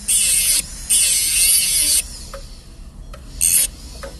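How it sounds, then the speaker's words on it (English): A cast silver pendant being sanded with sandpaper: loud, close rasping strokes in bursts, two long passes followed by a pause with light ticks, then one more short scrape. "Nice even sandpaper. It's gonna be easy to polish this piece."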